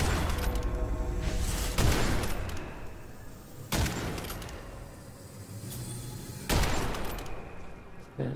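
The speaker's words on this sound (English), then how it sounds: "I'm gonna have to shoot our way through here." Heavy gunfire in the shooter Witchfire, several loud, sharp shots spaced a couple of seconds apart, each followed by a rumbling decay over a continuous roaring background, with no speech.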